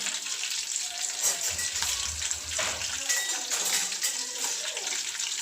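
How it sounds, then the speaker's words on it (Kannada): Green chillies fry in hot oil for avalakki (poha), a steady, close sizzle and crackle that holds throughout with gentle swells. "ಮೆಣಸಿನ್ಕಾಯಿ ಎಣ್ಣೆಗೆ ಹಾಕಿದ ತಕ್ಷಣ ಫ್ರೈ ಆಗ್ಬೇಕು"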